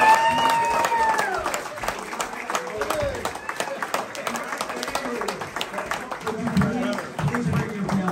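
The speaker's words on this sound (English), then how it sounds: "So if you guys could all just give a round of applause to my wife" An outdoor audience at a giant pumpkin event in Half Moon Bay claps, a dense patter of applause running throughout with cheering and talk mixed in.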